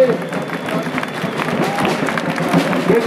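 Crowd of football supporters applauding and cheering at an outdoor Girondins rally on Place Pey Berland, steady dense clapping mixed with crowd noise and voices throughout.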